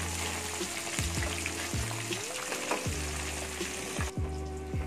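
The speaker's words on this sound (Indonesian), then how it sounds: "Kita goreng sampai tahunya berwarna kuning coklat-coklatan." Tofu pieces fry in hot oil with a steady, dense sizzle that runs unbroken throughout, close up and without any talking.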